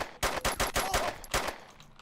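Rapid pistol shots in the survival game DayZ, roughly seven sharp cracks in quick, slightly uneven succession, loud and close, with a short fading tail and no talking.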